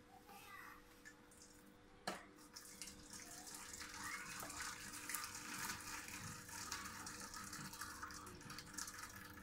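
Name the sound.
pouring liquid from cooked pork out of the pan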